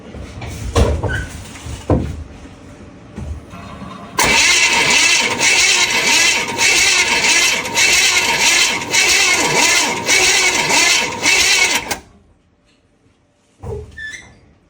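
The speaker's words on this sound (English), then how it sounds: "And yes, the engine's galloping," An old classic car, long abandoned in the Maine woods, cranks with a few sharp clicks, then fires and runs loud and unevenly for about eight seconds on only two spark plugs before abruptly cutting off.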